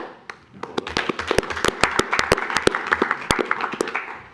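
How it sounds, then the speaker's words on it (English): A crowd at a city commission meeting applauds steadily, with sharp individual claps standing out from the dense, continuous clapping of many hands nearby. "Applause to my colleagues."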